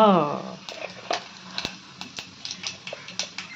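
Cumin seeds crackle in a hot pan on a gas stove, the same pan just used to roast semolina. Irregular sharp pops ring over a low sizzle, with a brief voice at the start.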